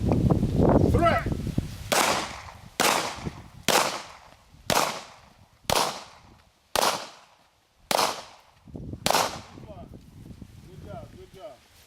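Eight sharp gunshots crack out one by one at a steady pace during a firearms training drill, loud and close, with an instructor speaking just before the first shot.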